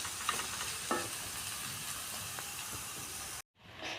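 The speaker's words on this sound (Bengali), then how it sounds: "এটা এখন আস্তে আস্তে গ্যাসে ধীমে গ্যাসে এটা ভাজবো," Chicken frying slowly over a low gas flame, giving a steady close sizzle and hiss with a few light stirring clicks, then a brief cut to silence before the sizzle resumes.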